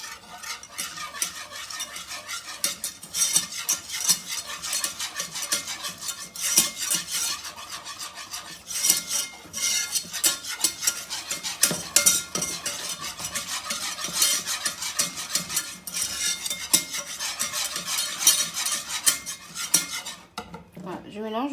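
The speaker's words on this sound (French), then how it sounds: "je mélange de façon à obtenir un joli roux" A utensil stirs flour into melted butter in a pan to make a roux, with continuous close scraping and clinking against the pan and a faint sizzle underneath.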